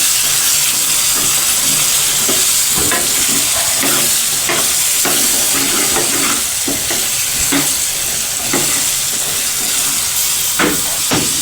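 Chickpeas with turmeric and salt stirred in a hot pan, giving a loud continuous sizzle and hiss with frequent scraping and clinking of the spoon against the pan, close up and without voices.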